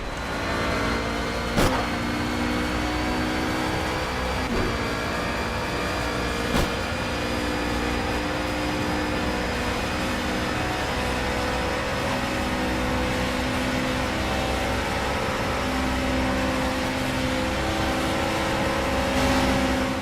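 Race car engines in Project CARS during a 24 Hours of Le Mans career race, an LMP2 car overtaking a GT4 BMW: a sustained engine drone with rising and falling tones and occasional sharp clicks, no talking.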